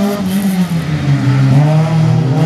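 A slalom race car engine accelerates hard at close range, its loud, buzzing note climbing and dipping through the gears for the whole stretch.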